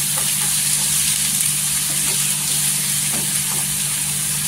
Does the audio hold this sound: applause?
no